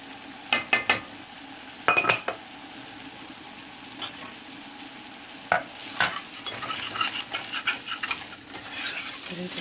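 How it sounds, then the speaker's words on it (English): Butter and an equal amount of flour cook in a pan for a scalloped Brussels sprouts dish, with soft sizzling under repeated scraping strokes of a utensil stirring the roux. "I'm going to add an equal amount of flour to butter"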